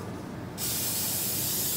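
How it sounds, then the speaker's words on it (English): Cooking spray can spraying into a cake pan, a single continuous hiss starting abruptly after a brief pause and holding steady, close and fairly quiet. "Go ahead and give your pan a little spray."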